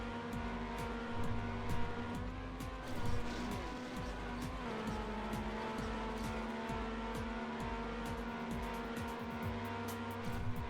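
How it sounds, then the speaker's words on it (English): A race car in the Trackmania video game drives at speed with a continuous loud engine whine and tire squeal as it slides out, with a steady rushing roar throughout and no speech. "At some speeds the car is starting to slide out"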